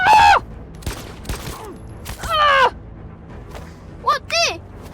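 Gunfire in the video game Detroit: Become Human: a few sharp, separate shots mixed with loud shouted voices and game sounds.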